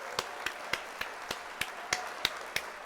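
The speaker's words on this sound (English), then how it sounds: "We're going to hit the applause there." A recorded applause effect plays during a livestream, with soft, dense clapping beneath a series of evenly spaced sharp clicks that recur about every quarter second.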